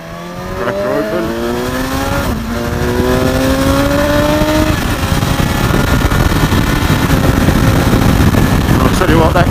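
BMW S1000 XR motorcycle engine revving hard through rising gears, each quick-shifter upshift cutting the pitch with a brief dip before it climbs again; loud, close and continuous with wind roar.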